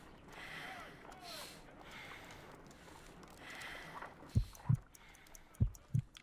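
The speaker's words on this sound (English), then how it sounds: "I need to concentrate and count the heartbeats." Slow heartbeat thumps from the Sherlock Holmes Crimes and Punishments video game, four deep low pulses in two pairs near the end, over a steady murky ambient hum.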